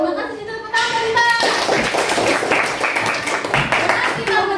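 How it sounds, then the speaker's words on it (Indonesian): Hands clap in a classroom as a group applauds after singing a nationalist song, a burst of many claps close by with voices mixed in. "Terima kasih tepuk tangan Mbak."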